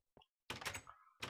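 In Minecraft, double doors swing shut after a lever is thrown: a short click, then a louder wooden door thunk with a brief scrape, followed by another quick thud, all clean and close with no talking.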